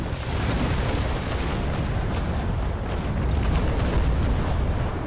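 Naval battle video game with ships under cannon fire: a dense, continuous roar of booming gunfire and rumbling blasts, loud and sustained throughout with no talking.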